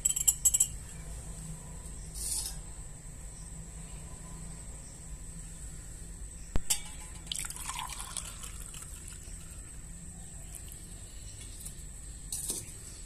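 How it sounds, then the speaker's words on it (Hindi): Water trickles and drips into a teacup with a few light clinks, quiet and close, with no talking. "कप को आपने पानी से भर लेना है।"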